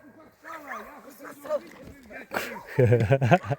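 A dog at a garbage dump gives a few short yips and whines amid people talking nearby, the animal sounds brief and close, mixed in with conversational speech.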